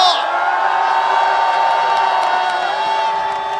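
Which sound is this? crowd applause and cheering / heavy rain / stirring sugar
crowd applause and cheering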